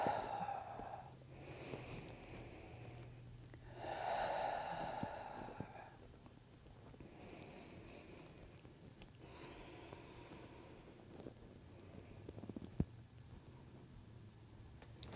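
Slow, deep breaths during a prenatal yoga session for the pelvic floor and tailbone, with soft inhales and exhales rising and falling a few times, near and quiet, and no talking.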